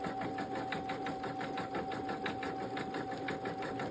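A Brother Innovis Quattro 3 embroidery machine with a metal magnetic hoop stitches with all-purpose thread, a close, fast, regular mechanical pulsing over a constant motor hum.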